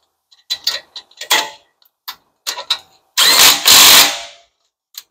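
An electric impact gun works on the front brake caliper bolts of an Infiniti QX50, with a series of short clattering rattles and bursts followed by two longer, louder hammering runs close by, then a final brief tap.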